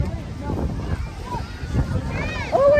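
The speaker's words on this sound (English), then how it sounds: "Oh, it's windy." Gusty wind buffets the microphone outdoors at a family farm near a corn maze, a steady low rumble with a stronger gust at the end, while people talk nearby.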